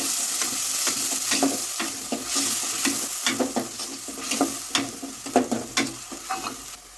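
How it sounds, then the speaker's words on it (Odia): Sliced onions added to sugar caramelized in hot oil for a home-cooked biryani, a continuous loud sizzle with scraping stirs and clinks of a spatula in the pan, close up and without speech. "ବର୍ତ୍ତମାନ ଆମର ଚିନି ନାଲି ପଡ଼ିଗଲା ପିଆଜ ପକାଇଦେବା"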